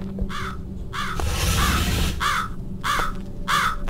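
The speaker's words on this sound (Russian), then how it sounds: "Прикольная ворона." A crow caws repeatedly in the horror video game Jisatsu, four loud, harsh calls in an uneven rhythm over a dense, rumbling ambient background.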